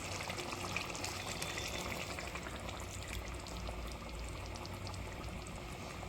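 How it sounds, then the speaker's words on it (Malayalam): Coconut milk is poured into a gently boiling Kerala-style mutton curry, giving a soft, continuous bubbling and sizzling hiss at low volume, steady throughout with no talking. "ഇനി നമുക്ക് തേങ്ങാപ്പാൽ ചേർക്കാം."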